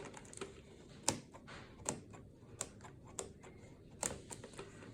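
Scissors cut open the packaging of a Daniel Smith 24 half-pan watercolor set with a bonus tin box, giving scattered sharp snips and clicks at an irregular pace over low background noise.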